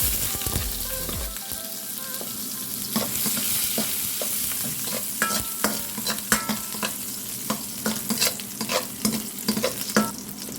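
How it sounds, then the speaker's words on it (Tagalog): Garlic sautéing in cooking oil in a pan for a squid and tomato dish, with steady sizzling and frequent stirring clicks that become louder and sharper as it goes on, with no talk. "So mag-start na tayo mag-saute. Lalagay na tayo ng mantika."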